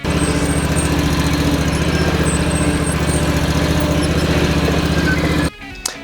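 A riding lawn mower engine runs loud and steady with a sulky behind it, a constant droning hum that cuts off abruptly near the end, leaving a brief low rumble.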